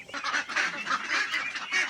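Ducks quacking continuously as they are fed rice mixed with paddy and water, a dense, near chorus of honking calls with no talk.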